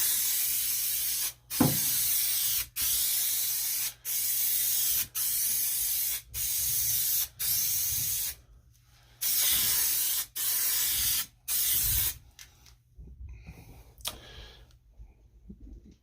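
Rattle can of Raptor liner coating sprayed in a run of repeated bursts, each lasting about a second with short gaps, hissy and close, then quieter handling sounds and a few final short sprays.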